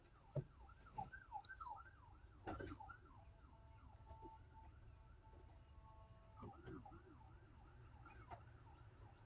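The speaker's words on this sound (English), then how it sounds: "it's a weird sounding emergency vehicle." An odd-sounding emergency vehicle siren wails in repeated rising and falling sweeps, faint and distant, with a gap before it returns, while someone talks nearby.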